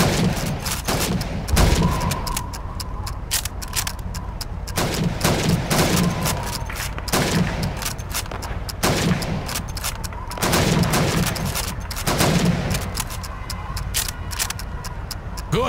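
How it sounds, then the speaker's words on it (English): Rifle fire from a Call of Duty 2 shooting-range drill, with repeated shots at helmet targets on the PC game set in World War II, arriving as a steady series of sharp reports over constant battle ambience. "You have 15 seconds to shoot the helmets."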